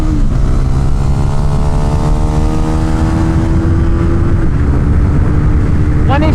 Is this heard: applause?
no